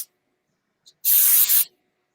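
A cookie-decorating airbrush sprayer lets out one loud, close burst of hissing spray lasting about half a second, briefly interrupted near its end, after a tiny earlier puff and silence.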